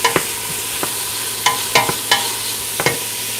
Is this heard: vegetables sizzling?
yes